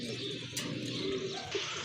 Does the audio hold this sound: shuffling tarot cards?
no